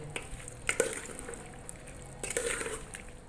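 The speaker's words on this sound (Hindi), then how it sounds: "मसालों के अंदर अच्छी तरह मिक्स कर लेंगे" Potatoes and capsicum are stirred through spices in a cooking pot, giving soft wet squishing and scraping with a few light clinks of the spoon against the pot, quiet and intermittent.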